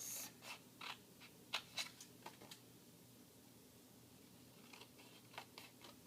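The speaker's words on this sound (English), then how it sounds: "And then I cut it out with my scissors like this." Quiet snips of scissors cutting paper, several short crisp cuts in uneven bursts with pauses between, close by against a faint background hum.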